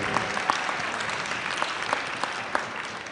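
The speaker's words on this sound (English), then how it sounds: "Let's give him another round of applause" An afternoon college ceremony crowd gives a warm, steady round of applause, a dense even patter of many hands at moderate distance with occasional sharper individual claps standing out.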